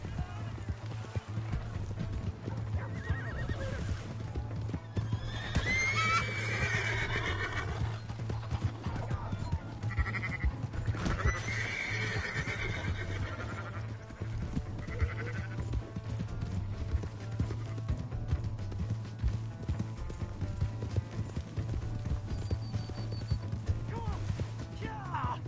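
Hoofbeats clip-clop steadily and a horse gives a brief whinny in a Western video game, heard alongside a continuous low game hum and intermittent voices talking over the action.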